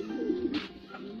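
A pigeon coos once up close, a soft, low throaty warble lasting about a second, quiet and alone.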